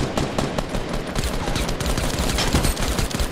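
Dense, loud gunfire from a Fortnite Battle Royale match, rapid overlapping bursts of automatic shots rattling continuously with no gaps, no talking over them.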